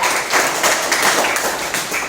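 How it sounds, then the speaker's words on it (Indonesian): A short burst of applause from a group, with quick overlapping hand claps that hold steady for a couple of seconds. "beri tepuk tangan buat teman kita"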